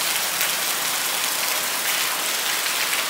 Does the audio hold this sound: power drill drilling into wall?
no